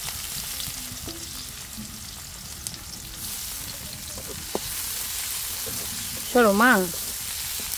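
Onions sizzle in hot oil in a pan just used for frying fish, giving a steady close hiss with occasional clinks; a voice speaks briefly near the end.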